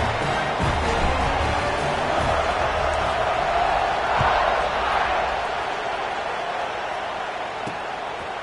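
A large crowd at a college football game against Texas A&M roars steadily through a kickoff, a broad continuous wash of cheering that holds loud and even with a slight swell midway.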